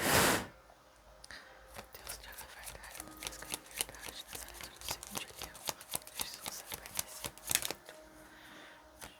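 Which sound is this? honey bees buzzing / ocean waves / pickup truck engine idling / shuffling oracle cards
shuffling oracle cards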